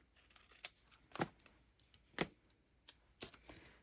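Scissors snip paper for an altered-book junk journal page, five or six short crisp cuts spaced about a second apart, quiet and close with no talk.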